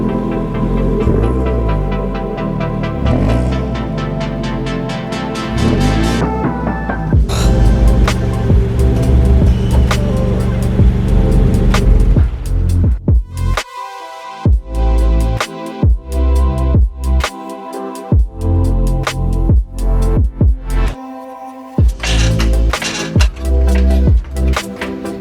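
Exhaust of a 2022 Subaru BRZ on stock headers while driving, a loud close engine drone rising and falling through revs, with sharp throttle lifts and gaps between bursts in the latter half.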